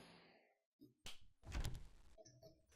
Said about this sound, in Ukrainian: О, двері.